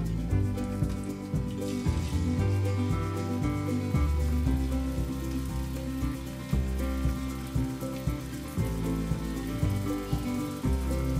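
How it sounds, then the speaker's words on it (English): Vegetables deep fry in hot oil, a dense, continuous sizzle and bubbling like heavy rain on a surface that stays steady and close throughout, with a few soft knocks and no talking. "The oil is heated up well, so I'll start frying all the vegetables one by one."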